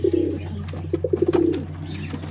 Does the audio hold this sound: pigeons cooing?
yes